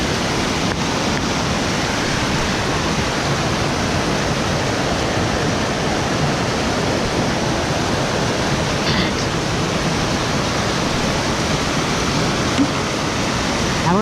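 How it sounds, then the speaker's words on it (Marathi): Heavy rain with flooding rainwater while crabbing: a loud, unbroken hissing wash of downpour and running water, steady and close for the whole stretch, with no speech. "आपण खतरनाक पाऊस पडतो आहे"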